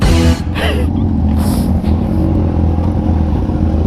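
A Yamaha MT-09 motorcycle engine roars and revs steadily up close, with a quick clattering quickshifter burst near the start and a constant low rumble throughout.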